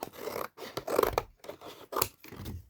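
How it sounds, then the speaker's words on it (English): Scissors cut through paper for crafting in short rasping snips, roughly six bursts separated by brief pauses, close and quiet. "Then I grabbed my scissors."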